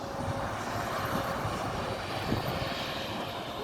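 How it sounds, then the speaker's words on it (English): Scania N230UD ADL Enviro400 double-decker bus of Stagecoach passing by outdoors, a steady broad engine roar and road rush heard at moderate distance with no voices. "SCANIA E400."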